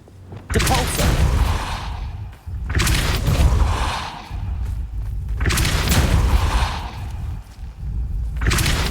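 Depulso spells are cast in the video game Hogwarts Legacy, producing heavy booming blasts and thuds with whooshing bursts, loud and close, repeating in surges with brief gaps, under occasional voice.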